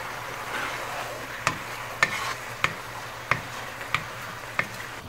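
Minced garlic, jalapeno and scallion sauté in a hot pan with a low, steady sizzle, punctuated by about six sharp, evenly spaced knocks of a utensil against the pan.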